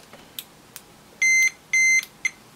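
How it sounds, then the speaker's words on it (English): A Fluke 87V multimeter in diode mode gives short electronic beeps: three brief chirps, then two longer steady tones and one more short beep, clear and close against a quiet background. "Diode mode. Yep, great, that beeps."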